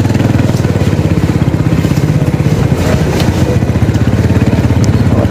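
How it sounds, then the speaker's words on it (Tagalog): A pile boring drilling machine works at a construction site, its diesel engine chugging loud and close in a steady rapid rhythm, with faint clanks over the constant drone. "Ayan yung drilling machine, eh. Pile boring machine."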